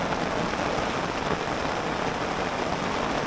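Heavy rain pours down on a wilderness island campsite on a big lake during a storm, a dense, steady hiss of downpour with no voices.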